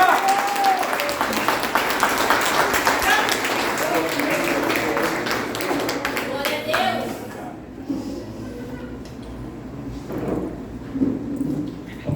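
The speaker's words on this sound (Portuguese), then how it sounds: "E aplaude sobre ele, porque ele merece" A church congregation claps loudly in sustained applause for several seconds during a service, which then fades into murmuring and scattered voices in a large room.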